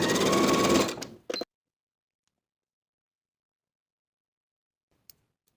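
A sewing machine stitches bust darts on a fit-and-flare dress bodice in a loud, steady run lasting about a second, then a short second burst, followed by near silence and a faint click.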